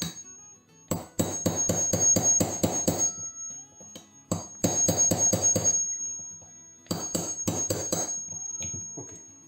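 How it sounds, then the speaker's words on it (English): A punch is hammered to drive a pin out of a SAR 2000 pistol during a full takedown. Three bursts of rapid metallic taps ring out close up, separated by short pauses. "let's take a punch. Drive that pin out."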